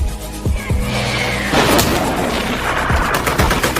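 Loud, rapid gunfire with several sharp shots and heavy booms from a war film battle between US and Taliban forces, bursts overlapping one another.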